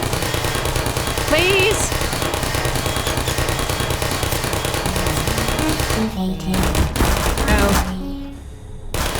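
Video game gunfire rattles in dense, rapid bursts through most of the stretch, loud and continuous under a voice who speaks briefly and cries out, thinning near the end.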